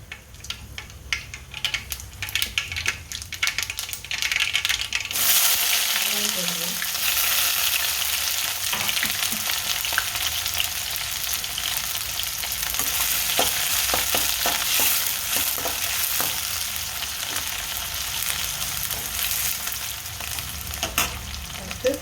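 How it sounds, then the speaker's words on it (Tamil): Mustard seeds and cumin fry in hot oil in a pan: a quieter start, then a loud, dense, continuous crackling sizzle with scattered popping that carries on for the rest of the clip, close up and without voices. "கடுகு, சீரகம், கடுகு, கொஞ்சம் சீரகம்,"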